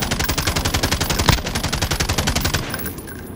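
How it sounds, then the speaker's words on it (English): Rapid automatic gunfire in an online shooter game, a fast, even string of loud shots in quick rhythm that continues for a few seconds before tapering off. "I'm shooting at him."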